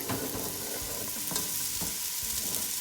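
Onion, pepper, garlic and green onions sizzle steadily in a frying pan, with a low, even crackle and occasional scraping stirs, and no talk.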